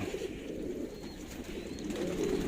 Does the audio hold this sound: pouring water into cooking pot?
no